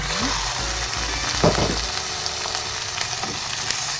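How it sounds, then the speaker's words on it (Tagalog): Chicken pieces drop into hot oil with browned garlic, onion and ginger for a chicken curry, setting off a loud, steady sizzle close by, with a brief clatter as they land. "Pwede na natin ihulog ang ating chicken."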